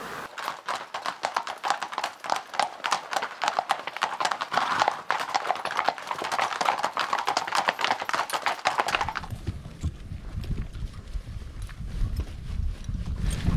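Horse hooves clip-clop steadily on a Pyrenees trail ride, a brisk close rhythm of sharp hoof strikes that continues as a deeper rumbling wind noise takes over the background.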